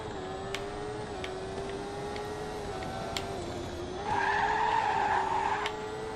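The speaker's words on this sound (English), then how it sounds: "Yeah, drifted in an F1 car." An F1 car drifting in the racing game RaceCraft, with a steady engine drone that gives way to a loud, sustained tire squeal through the skid, followed by a few faint clicks.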